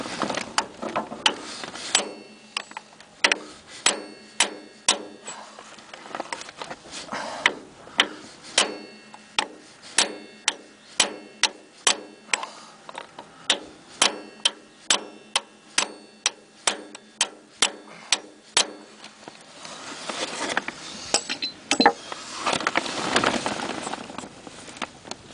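Socket being hammered onto a core plug on a Grey Ferguson TEF20 tractor, a long series of sharp metallic taps at a steady pace, fairly faint and close with no talk.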